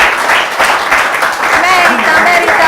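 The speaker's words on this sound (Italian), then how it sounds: "questo merita un applauso" Applause from a studio audience in an Italian sports talk show, a dense, loud burst of clapping mixed with voices throughout.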